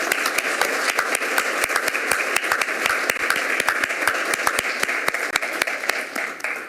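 A large audience at a mayor's service awards ceremony applauds its honorees, a dense, steady wash of many hands clapping close by, sustained without a break and with no voices over it.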